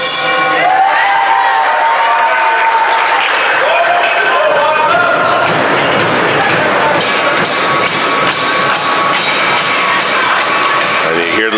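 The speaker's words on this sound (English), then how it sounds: "And you hear the supporter section for Durham getting into it" Home supporters cheer loudly and steadily throughout at a Durham College women's basketball game against Redeemer University, with ball bounces and sneaker squeaks under the crowd roar.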